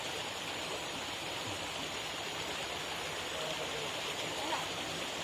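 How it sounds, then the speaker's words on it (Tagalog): A river stream flows outdoors in the countryside, a steady, soft rushing wash of water that continues unbroken throughout. "Yes, niabot na mi sapa."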